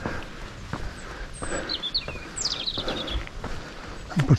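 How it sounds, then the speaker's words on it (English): Faint, high birdsong chirps and trills drift over the Tuscan countryside near Barga, mixed with footsteps and light rustling on a quiet rural lane. "And birdsong is awesome."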